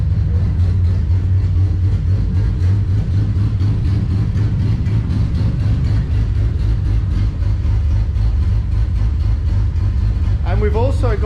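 Turbocharged Barra-engined Nissan Patrol running a ghost-cam tune, a loud, steady lumpy idle with a choppy low rumble throughout, ending in a short rising rev near the end.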